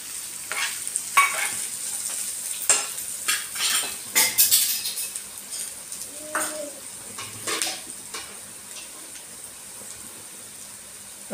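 Green chillies and curry leaves frying in a pan for a homemade chutney, a steady sizzle broken by several metal utensil clinks and scrapes against the pan, close by.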